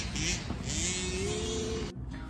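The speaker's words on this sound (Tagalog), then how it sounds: "Ang ingay po niyang sasakyan sa likod." A noisy vehicle runs somewhere behind a walker in a park: a steady, loud engine drone with a slowly rising whine lasting about two seconds, broken by a brief dropout near the end.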